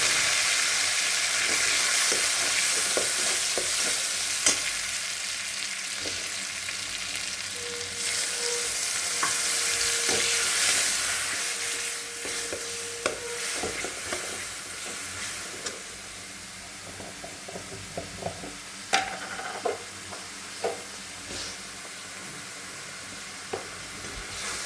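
Brain and poppy seed paste frying in a pan, a continuous hissing sizzle with scattered stirring knocks and faint hums, steady and close for a long stretch without speech.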